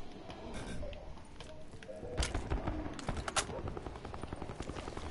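Gunfire in a Call of Duty match sounds as quiet, distant rattling bursts and scattered single shots over a busy game background, with a few sharper cracks in the middle.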